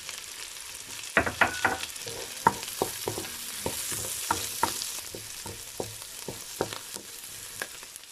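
Garlic sautés in a hot pan with a steady sizzle, punctuated by repeated sharp scrapes and taps of a utensil stirring at an irregular rhythm, close and without talking.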